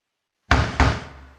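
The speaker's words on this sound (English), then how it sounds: "If you're trying to give us a sign, please knock one more time" Two sharp, heavy knocks on a door, a fraction of a second apart and close to the listener, each ringing out into a dull resonant decay after silence, from a horror film scene.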